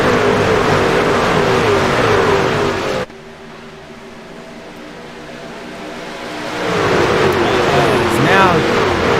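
Stock cars in the AOLL Sportsman Series race at Daytona International Speedway: a loud roar of engines cuts off abruptly, leaving a quieter hum, then swells back as cars pass close again, with a voice talking over it.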